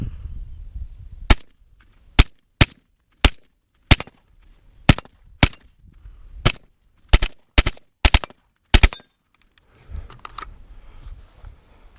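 Rifle shots from an FN TAC3 AR-15 at an outdoor range: about a dozen sharp, loud reports fired singly at an uneven pace, some in quick pairs, with quiet gaps and faint background noise between them.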